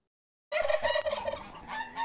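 After a short silence, a flock of poultry bursts into loud calling, rapid and overlapping, close by.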